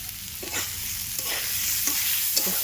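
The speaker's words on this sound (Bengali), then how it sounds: "তো জলটা ভালো করে টানলে শুকনো শুকনো ভাজা ভাজা করে হবে।" Radish greens and potato frying in a wok, a steady close sizzle with rhythmic spatula strokes scraping the pan, no voices.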